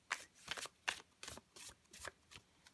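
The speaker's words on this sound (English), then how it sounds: "I just do a little side shuffle with these cards." Quick, close shuffling of a card deck, with about seven short, crisp riffles at a fairly even rhythm.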